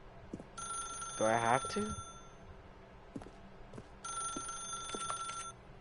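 A telephone rings in The Stanley Parable video game, two bursts of a shrill electronic trill separated by a pause, with someone talking over the start of the first ring.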